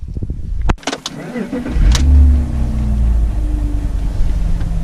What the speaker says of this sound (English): When you start the car, it kind of rattles a little bit.